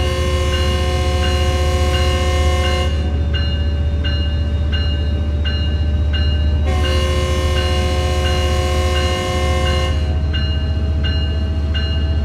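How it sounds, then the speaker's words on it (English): A train's horn in Train Sim World 4 sounds twice in long steady chords, each a few seconds long, over the continuous low rumble of the moving locomotive near Los Angeles Union Station. "I like honking the horn."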